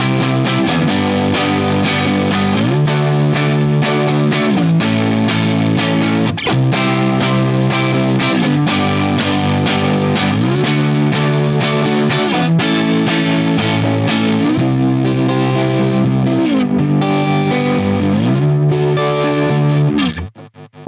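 A Fender Jazzmaster electric guitar played through a Lance Amplification Aerial pedal, sustained chords ringing with a wavering, effected sheen, loud and continuous, strummed in steady changing patterns before cutting off at the end.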